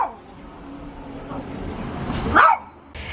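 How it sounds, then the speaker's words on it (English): Nearby dogs let out a few barks and yips as a UPS truck approaches, with one sharp, loud bark near the end and quieter whines and rustling between. "The UPS truck's coming and these dogs are going to bark."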